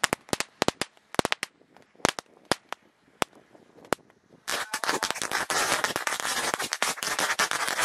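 Loud, sharp bangs from two boxes of tank firecrackers burst irregularly at first, then erupt into a dense, continuous crackling barrage of rapid explosions.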